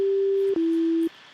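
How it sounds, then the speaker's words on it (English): A pure sine tone generated in Ableton sounds steadily for about half a second, steps to a slightly lower pitch and holds for another half second, then cuts off, leaving faint hiss. "sine wave itself being generated"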